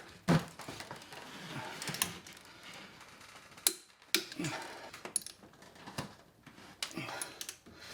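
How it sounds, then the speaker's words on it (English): Torque wrench clicking as a cylinder head bolt is tightened on a Jeep 4.0L engine, with a few sharp, distinct clicks spaced a second or two apart and faint handling noises between them. "you can really hear the click of the torque wrench as we've increased the torque"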